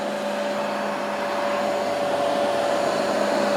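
Bissell TurboClean PowerBrush Pet carpet cleaner running on suction only, a steady, loud motor whine with a constant tone and airy roar that holds evenly throughout, no talking.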